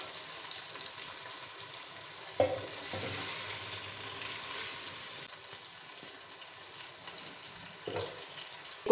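Chicken frying in a pot as roughly a quarter kilo of tomatoes goes in, a soft steady sizzle with a couple of dull clunks of utensils, fairly quiet and without talk.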